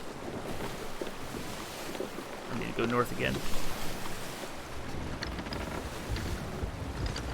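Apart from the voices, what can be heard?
ship swaying and rocking in ocean waves in a video game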